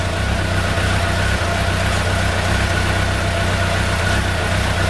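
A Suzuki Bandit 1200 motorcycle engine idles during a valve-check service, a loud, steady low rumble held evenly throughout with no talking.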